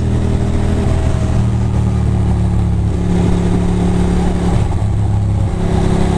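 Cars race and accelerate along a New York City street, a steady loud engine drone with rising revs heard from inside a moving vehicle, continuous throughout with no talk.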